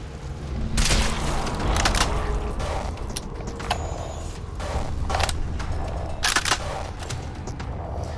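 DSG-1 sniper rifle firing in Crysis 2, said to shoot .50 caliber sabot rounds: several sharp, loud reports spaced a second or so apart over a continuous rumbling game soundscape.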